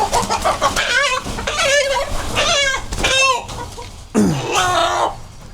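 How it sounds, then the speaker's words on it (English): Rhode Island Red roosters at a chicken auction cluck and crow in repeated loud, close bursts, with one strained squawk near the end. "we bought some Rhode Island red roosters"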